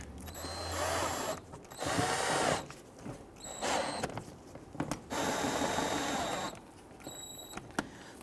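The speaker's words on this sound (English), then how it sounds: "Now if you're using a screw gun, just gently snug those." A cordless screw gun snugs plastic fender liner screws on a 2008-2017 Buick Enclave, several short whirring bursts with pauses between them, close up.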